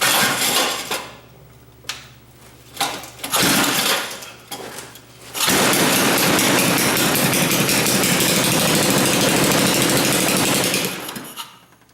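A small gasoline engine that probably needs carburetor work starts after a few short bursts, then runs loud and steady for several seconds before cutting out near the end.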